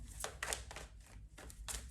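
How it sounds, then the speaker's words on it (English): Tarot cards shuffled by hand in short, papery riffling bursts, several quick rustles spaced irregularly across two seconds, soft and close with a low background hum and no voices. "Give it a good shuffle."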